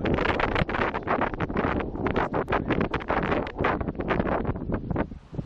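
Strong wind buffets the microphone on a Gulf of Mexico beach at Panama City Beach, a steady loud roar with gusty surges and faint wave wash underneath, no voices.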